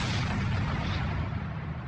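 Big explosion as flak bursts against the belly of a plane in a World War II tabletop game, a dense continuous roar with heavy low rumble filling the whole stretch, loud and close with no voices.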